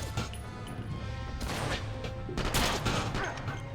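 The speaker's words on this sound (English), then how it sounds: "I accidentally hit the reload button" A weapon reload in the PS2 version of the James Bond game Quantum of Solace, set on a barge, gives a quick clatter of metallic clicks and knocks over a constant background of game noise.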